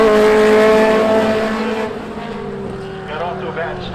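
Chevrolet Camaro race car at a Seekonk Speedway spectator drag event, a loud, close engine roaring and revving high before receding as it pulls away, with an announcer talking over it.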